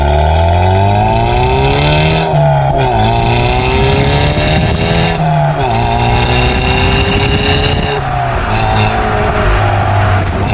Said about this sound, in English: I think you can hear a little bit more of that exhaust.